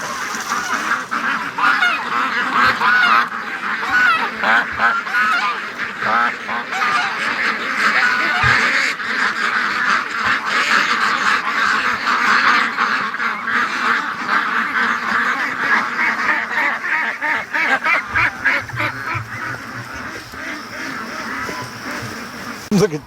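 A flock of ducks at a swamp quacks and honks nonstop, a loud, dense, overlapping chorus of close calls that keeps going for over twenty seconds.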